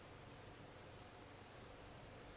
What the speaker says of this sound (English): The sound of the rain is so relaxing.